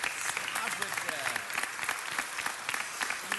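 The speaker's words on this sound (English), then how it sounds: "Okay, one more round of applause." Sustained applause from the audience at a city council meeting, a dense patter of many hands that carries on while a voice speaks over it.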